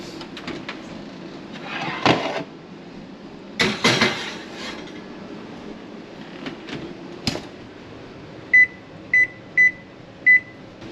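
Cinnamon rolls going back into a home kitchen oven: soft clatter of a pan and a thud as the oven door shuts, followed by four short, evenly spaced electronic beeps as the timer is set.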